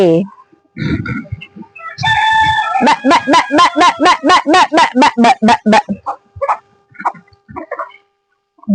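A hen's loud clucking and cackling close by, a rising run of rhythmic squawks with a few scattered calls after, in a backyard setting.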